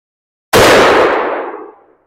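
A single sharp report from an Ishapore 2A1 Enfield bolt-action rifle, loud and sudden, cuts off the silence and then rings out in a fading decay over about a second and a half.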